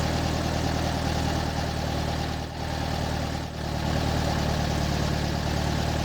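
A 1968 VW Bus engine idles steadily and close up after a fresh install, a dense rumbling drone with a couple of brief dips in revs as the air correction screw is adjusted.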